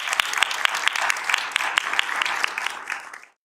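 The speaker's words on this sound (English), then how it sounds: "will you join me in a round of applause for Martina Guzmán?" A seated audience at a local news and equity event in Detroit breaks into sustained applause for a keynote speaker, dense clapping that fades out after about three seconds.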